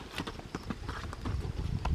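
Horse hooves clip-clopping around a round pen: a quick run of close hoof strikes on the ground over low rumbling background noise, no clear speech.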